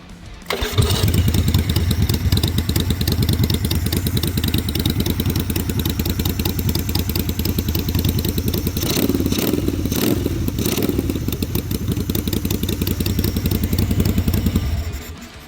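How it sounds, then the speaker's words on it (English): A 1987 Yamaha Virago XV bobber motorcycle engine starts and settles into a loud, steady running rumble close by, with a few brief revs partway through and no talk. "The bike starts up just fine."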